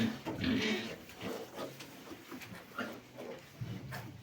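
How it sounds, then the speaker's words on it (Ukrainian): A sow with her newborn piglets in a farm pen gives soft grunts and squeals that rise and fall continuously, fairly faint and close, with faint voices in the background. "Наша свиноматка."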